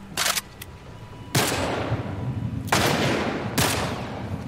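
Bursts of gunfire from The Last of Us video game, several loud, sharp volleys spaced a second or so apart, each trailing off with a hissing decay.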